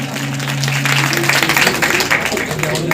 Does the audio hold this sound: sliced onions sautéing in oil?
no